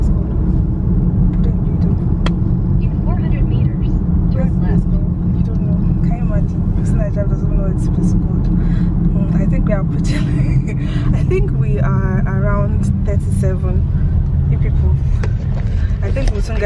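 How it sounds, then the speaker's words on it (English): Morning road traffic in Accra, Ghana rumbles constantly from inside a moving vehicle, with engines droning, passing cars and occasional horns, while a voice talks over it. "this is what Accra traffic looks like"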